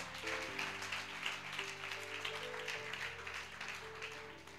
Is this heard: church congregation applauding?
yes